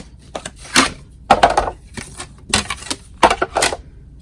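A die-cutting machine cutting a shape with a Framelits die for a papercraft tissue box, a series of close clacking, crunching mechanical bursts in irregular clusters, no talking.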